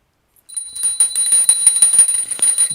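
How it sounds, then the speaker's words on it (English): A small hand bell rings continuously during an incense offering to a guru's image, a bright metallic jingle that starts after a brief silence and carries on at even strength. "please ring the bell as you do so."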